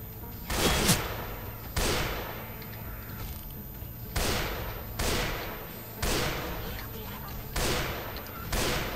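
Gunfire in the zombie shooter video game Left 4 Dead 2: about eight loud, sharp blasts at uneven intervals, each decaying briefly, over a low background din.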